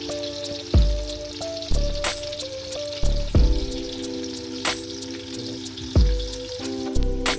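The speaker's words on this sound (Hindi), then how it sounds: "साथ साथ चमचे से हिलाते रहना है और प्याज जो है उसको ब्राउन करना है" Onions frying and browning in oil in a pot, a continuous sizzle broken by repeated metallic ladle scrapes and clanks on the pot rim every second or so, close and fairly loud.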